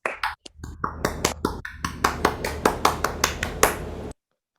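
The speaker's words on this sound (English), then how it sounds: "Please give him a round of applause." Scattered claps at a Toastmasters club meeting, a few close, crisp hand claps in an uneven rhythm, like a small group, before stopping abruptly.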